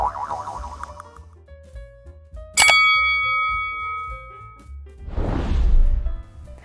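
A notification bell chimes once with a bright metallic ding that rings out and slowly decays, after a brief springy musical jingle and before a soft whooshing swell, with no speech.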